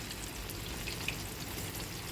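Boiled potato wedges, uncoated, frying in oil already used for chicken, giving a steady, soft, even sizzle with a couple of tiny pops and no voices.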